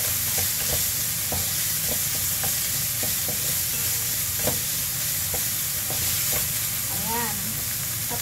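Meat frying and being stirred in a pan for shepherd's pie: a constant sizzle with regular scraping strokes of a utensil against the pan, close and steady, with a brief faint voice near the end.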